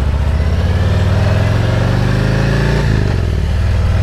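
Loud motorcycle engine riding close up, a steady throaty drone that climbs in pitch through the gears and then drops as the rider shifts, with no voices over it.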